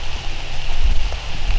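Rain falls steadily on a food plot planted for deer ahead of archery season, a dense, close patter with a low rumble underneath.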